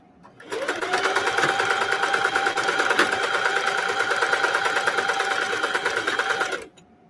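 An embroidery machine stitches a design onto a leg of jeans, a loud, steady, fast mechanical whirr with rapid needle ticking that starts abruptly, runs evenly for about six seconds, then stops.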